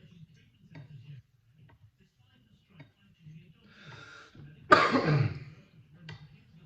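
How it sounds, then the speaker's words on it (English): One loud, harsh cough bursts out close by after some quiet low murmuring and faint ticking sounds, during knife sharpening on Nakayama whetstones. "a rotten bloody cough again"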